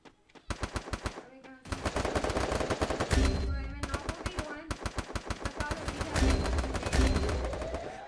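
Rapid automatic gunfire in a Garena Free Fire Clash Squad match, bursts of sharp shots separated by short pauses, loud and close across the whole stretch.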